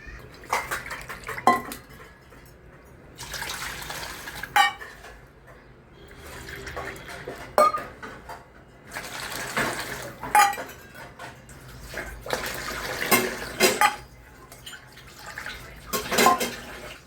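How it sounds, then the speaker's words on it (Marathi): Clattering pots and utensils with intermittent splashes of water being measured and poured into a pulao cooking pot, close by, with a voice speaking now and then. "आता आपण त्याच्यासाठी पाच वाट्या पाणी मोजून घेणार आहोत"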